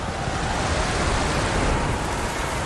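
Heavy rain pounds a beach crowded with tens of thousands of spectators awaiting a rocket launch, a dense, steady roar of downpour mixed with surf-like wash, loud and unbroken throughout with no voices.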